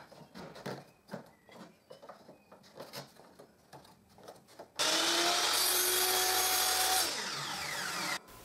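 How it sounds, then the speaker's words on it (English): Power saw cross cutting wooden glazing strips for a display cabinet, after scattered handling knocks comes a loud sustained whine of the blade biting through the wood, then winding down. "I cross cut the strips that hold the glasses in the structure."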